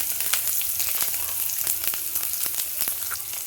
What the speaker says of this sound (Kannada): ಬೆಳ್ಳುಳ್ಳಿ 1-2 ಗಡ್ಡೆ ತೊಗೊಂಡಿದ್ದೆ, ಇದನ್ನು ಹಾಕ್ಕೊಂಡು ಫ್ರೈ ಮಾಡ್ಕೊಳ್ತೀನಿ.